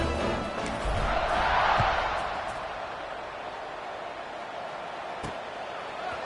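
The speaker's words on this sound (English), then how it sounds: "this crowd now ready to get behind them" Broadcast football stadium crowd roars at kickoff, a broad sustained cheer that swells for a couple of seconds, then settles into a steady, distant murmur.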